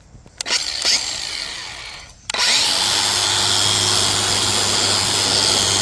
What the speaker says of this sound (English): angle grinder with the wire brush attachment and try to knock off some of the rust on the rotor